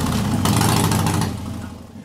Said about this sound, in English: With a large intermediate jet in the carb, the engine runs sluggishly